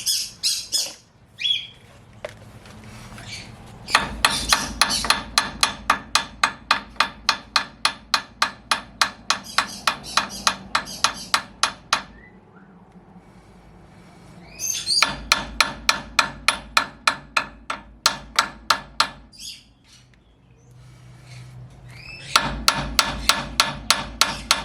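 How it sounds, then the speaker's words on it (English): A hammer taps on a wheel bearing cone of a 79 Series Land Cruiser during a bearing replacement. Rapid, evenly spaced metallic strikes come in three long bursts separated by short pauses, loud and close. "tapping it with a hammer to release it"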